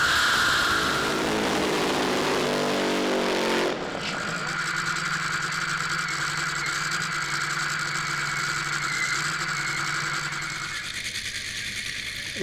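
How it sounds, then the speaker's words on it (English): Top fuel dragsters making exhibition passes at the Summit Racing Equipment Grand Final, an intense, loud engine roar that cuts off abruptly after about four seconds, followed by a steadier lower drone that slowly fades. "we've got some top fuel exhibition passes about to come our way here at the Summit Racing Equipment Grand Final"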